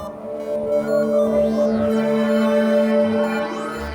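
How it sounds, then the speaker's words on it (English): A Casio SK-1 playing an organ sound inside a modular synth patch gives a soft, sustained organ tone that swells gently, with faint sweeping overtones gliding above it, alone and fairly quiet. "That little swell, that's the Casio SK1."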